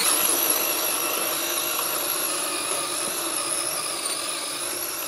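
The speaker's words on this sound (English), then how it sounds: "grind it on the rock to get some of the dirt out of there" An Axial RC crawler truck's electric motor whines steadily at a high pitch as it grinds against rock, a sustained buzzing drone that holds level with no talking.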